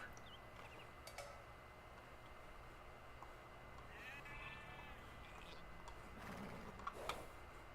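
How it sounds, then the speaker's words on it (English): Sheep bleating in the Age of Empires 2: Definitive Edition game during the Joan of Arc campaign, a few short faint bleats over steady ambient game sound with light clicking. "Here's sheep."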